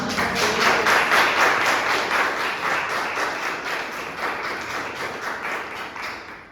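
A church congregation claps together at an Easter resurrection service, a dense, steady roar of many hands filling the room from start to finish and easing off slightly toward the end.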